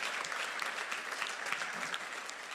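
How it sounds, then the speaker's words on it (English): A church audience claps steadily for the Yadens and the kids after their Romania mission trip, a dense, even round of applause that holds at a constant level throughout. "I would love for you guys to give them a round of applause"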